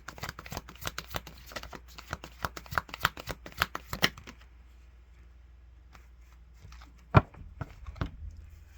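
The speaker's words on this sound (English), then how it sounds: "One more shuffle." Rapid riffling clicks of tarot cards being shuffled, a fast burst of crisp snaps, then quiet with a few scattered taps and one sharp knock.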